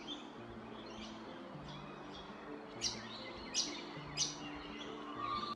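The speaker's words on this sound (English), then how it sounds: "In the background of these clips, you might be able to hear those brown honeyeater calls, but also the song of the mangroves rugini" Bird calls in Brisbane, brown honeyeater and mangrove gerygone, sound as three or four sharp, bright chirps about a second apart. They stand out over a steady bed of broad background noise and low hum.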